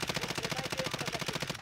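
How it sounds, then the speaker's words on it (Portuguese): Nearby automatic gunfire in the video game Call of Duty Warzone, a steady rapid rhythm of evenly spaced shots, loud and close, with no talking. "tinha alguém mais perto atirando"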